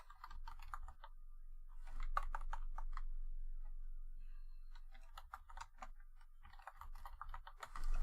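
Typing on a computer keyboard: quick, uneven runs of close, crisp key clicks broken by short pauses, in a quiet room with no voices.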